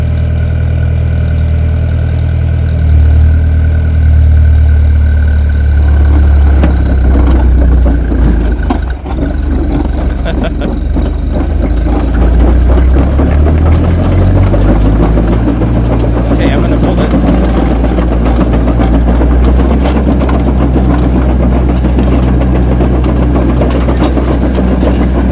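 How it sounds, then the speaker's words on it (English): The engine of an International TD-6 crawler tractor, previously locked up, is turned over while being towed, giving a steady low mechanical churning and rumble that grows rougher midway, loud and close throughout. "once we get going, I'll pull the clutch back, and it should at that point start cranking the engine over"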